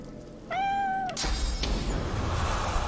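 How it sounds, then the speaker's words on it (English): A cat in the fantasy role-playing game Divinity Original Sin 2 lets out a single clear, drawn-out meow, followed by a burst of broadband game noise and ambience. "Door is open. There is a cat,"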